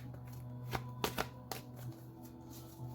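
Tarot cards are shuffled by hand, giving a few soft riffles and quick slaps spaced unevenly over a quiet, humming room, faint and close with no talking.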